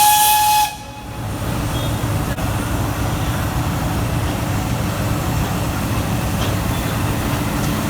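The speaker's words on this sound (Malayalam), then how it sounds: "പുക തുപ്പിയും ചൂളം വിളിച്ചും പതിറ്റാണ്ടുകൾ പിന്നിലേക്കുള്ള ആ തീവണ്ടി യാത്ര തുടർന്നു." A Nilgiri Mountain Railway steam locomotive on the steep Ooty to Coonoor line sounds a short, shrill whistle, then the train rumbles and hisses steadily along the track.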